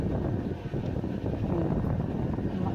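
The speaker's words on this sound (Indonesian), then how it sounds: "ini hari ini tuh anginnya kencang banget ya teman-teman ya" Strong outdoor wind buffets the microphone in a garden, producing a constant low, rumbling roar with small gusty fluctuations and no clear voices.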